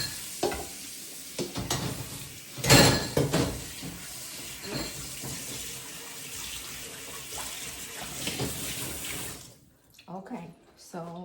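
Tap water running over pork ribs in a pan to rinse them, a steady close splashing with clattering bursts and movement, ending in a brief quieter stretch, with a voice speaking at times.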